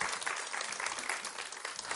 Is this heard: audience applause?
yes